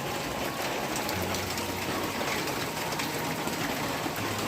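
Steady rain falls throughout, a dense even hiss of drops on a rainy afternoon, with no voices.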